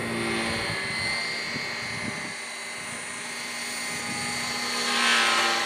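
Goblin 380 RC helicopter with a Skookum 720 flight controller in GPS-assisted flight, a constant high rotor and motor whine with swelling pitch, close by and heard alone.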